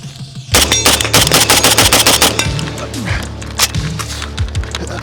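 Rapid bursts of AK rifle gunfire at a shooting range, loud and close, with sharp repeated shots cracking over a steady low rumble and continuing through the clip.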